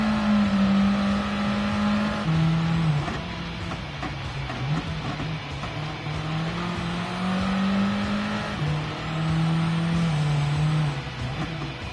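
A race car engine in Gran Turismo 7 on PS5 drones steadily and loudly throughout, its pitch rising and dropping with several distinct shifts as the car brakes, turns in and accelerates out of corners.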